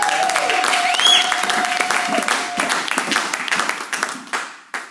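A church congregation bursts into loud applause, with a high sustained tone riding over it early on; the clapping then thins out into scattered individual claps before stopping.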